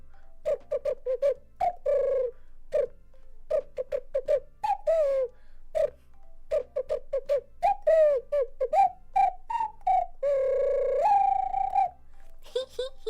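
A voice whistles and coos in imitation of a bird, a long run of short, tonal chirps and warbles with brief pauses, close and fairly loud, ending in a held whistle.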